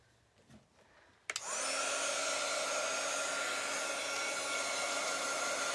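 A hair dryer switches on with a thump after a quiet moment, then blows a loud, steady whooshing roar close by as it dries chalk paste on a handmade autumn wreath.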